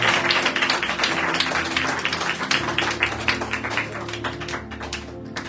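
An audience claps through a sermon, brisk dense applause holding steady throughout at close range.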